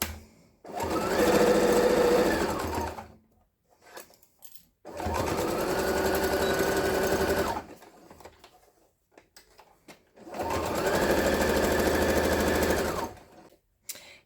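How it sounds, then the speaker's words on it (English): A sewing machine stitches around a fabric tea bag cozy made from scraps in three runs of roughly two to three seconds each, separated by short quiet pauses, close and clear. "now we get to sew around the whole thing"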